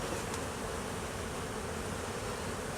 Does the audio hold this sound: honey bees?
yes